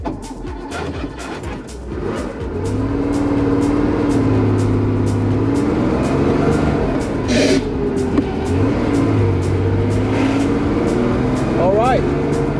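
Porsche 911 with a gearbox fault that struggles into fourth and fifth, driven on the road, engine drone steady and fairly loud from inside the car with a few shifts; a person talks over it.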